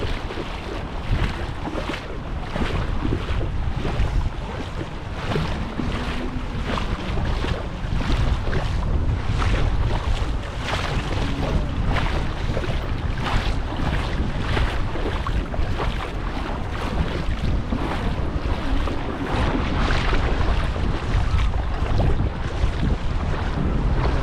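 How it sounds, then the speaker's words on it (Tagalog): Strong sea waves churn and splash continuously while gusty wind buffets the microphone along the coast at Anda, a loud, steady roar with no speech. "Palakas pa rin ang palakas ng alon."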